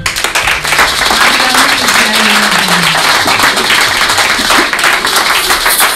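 Church congregation applauding and acclaiming the Lord: loud, sustained clapping from many hands filling the room, steady and close, with a voice faintly calling out beneath.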